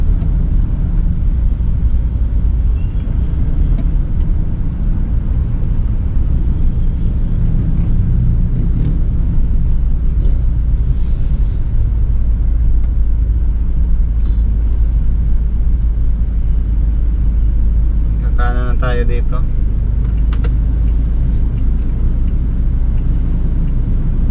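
Dense street traffic on a narrow, crowded road in Taguig, thick with motorcycles and tricycles, gives a steady, loud low engine rumble throughout, with a brief sharper mechanical burst partway through.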